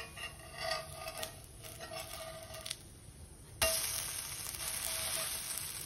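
Small dhirde, savory pancakes, roast in a pan, giving a soft, steady sizzle close by. A few faint clicks and scrapes come in partway through, and the frying hiss turns brighter after a short knock.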